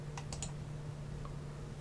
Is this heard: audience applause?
no